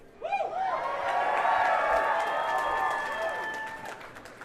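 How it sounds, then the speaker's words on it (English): An excited crowd of supporters at a campaign rally in a packed hotel ballroom cheers and whoops, swelling to a loud sustained roar with clapping before slowly fading. "The excited crowd filled the room to capacity and was riled up by Libertarian Party Chair Nicholas Sarwark"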